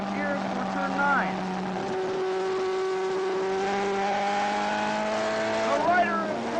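Superbike racing motorcycles at a 1979 AMA race roar along the track, their engine notes rising and falling through gear changes, with whining passes near and far and a voice speaking over the racket.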